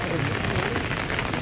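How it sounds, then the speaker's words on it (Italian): Steady rain falls at the Lido in Venice, a dense, continuous hiss and patter of drops that stays even and loud for the whole stretch with no clear voices. "Sto documentando la pioggia."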